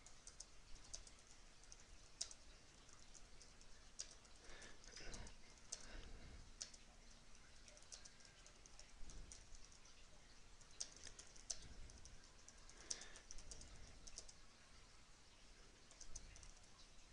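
Quiet, steady typing on a computer keyboard while an announcement is written, with soft, irregular keystroke clicks running throughout over a faint hiss, no talking.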